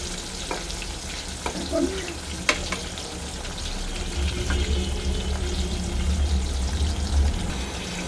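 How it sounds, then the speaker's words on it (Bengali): Pointed gourd (potol) fries in oil in a pan with a steady, close crackling sizzle, broken by a few sharp clicks of stirring. "পটলটাও লাল লাল করে ভাজা হবে"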